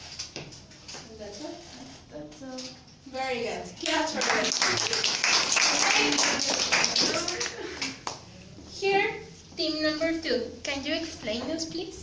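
Several seconds of lively group clapping at a conversation club meeting break out between stretches of talking, the applause dense and close before voices return.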